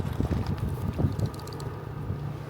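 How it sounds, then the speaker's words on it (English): Outdoor wind gusting against the microphone on a warm day at a rural cabin, a steady low rumble with uneven buffeting bursts through the whole stretch. "so this wind is good"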